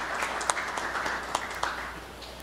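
Crowd applause at a Brazilian government launch event for employment and credit programs, a steady moderate wash of clapping with a few sharper individual claps standing out, heard alone without speech.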